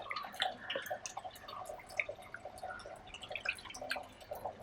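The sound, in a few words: fresh water poured to clean shark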